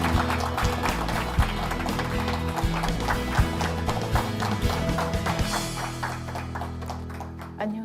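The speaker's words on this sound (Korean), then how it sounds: "김시우 박사님을 큰 박수로 자리에 모시겠습니다" A studio audience claps in a steady, rapid patter to welcome a lecturer to the stage, with background music sounding underneath throughout.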